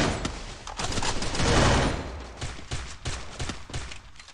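Mini Uzi gunfire in a 4v4 shooting video game match, with dense rapid bursts of automatic shots swelling to a peak and then continuing as sharp, separated volleys, with almost no talking.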